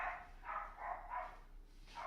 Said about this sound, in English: Dogs going mental.